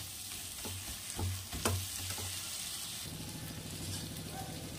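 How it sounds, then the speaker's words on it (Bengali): Warm water is poured into spice paste frying in a pan and stirred in, giving a steady close sizzle with scraping spoon strokes and a watery bubbling that settles into softer, even frying. "এই সব কিছু দিয়ে মশলাটাকে আবারও একটু নেড়ে চেড়ে এর মধ্যে দিয়ে দেব উষ্ণ গরম জল।"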